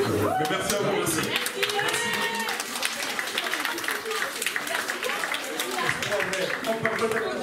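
An audience at a French talk-show taping claps steadily with dense, continuous applause, mixed with voices and crowd chatter throughout.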